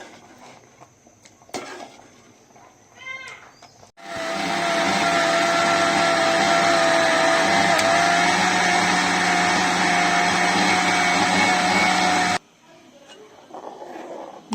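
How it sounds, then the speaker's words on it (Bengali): An electric blender purees boiled tomatoes for sauce, roaring loud and steady for about eight seconds after a few quieter clinks and kitchen sounds, then cutting off abruptly. "এখন ঠান্ডা হলে এটাকে ব্লেন্ড করব, ব্লেন্ড করে ছেঁকে তারপরে টমেটো সসটা তৈরি করব।"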